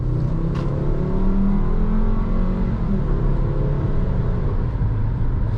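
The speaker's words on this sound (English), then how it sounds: "it's like a typical Volkswagen engine, really" A 2010 Volkswagen Jetta SEL with a non-turbocharged engine accelerates under throttle, a loud, steady mid-pitched drone heard from inside the cabin, with no talking.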